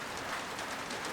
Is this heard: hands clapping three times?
no